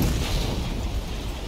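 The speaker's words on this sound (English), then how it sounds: "Explosion." A dull, rumbling explosion boom from the Resident Evil Reimagined video game, moderately loud and sustained with a roaring, noisy tail, with no talking.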